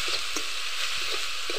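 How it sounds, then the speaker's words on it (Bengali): Bathua greens frying in a hot wok give a steady, close sizzling hiss, with a few soft crackles and stirring ticks scattered through it. "এখন আমি ভেজে নেব শাকগুলো"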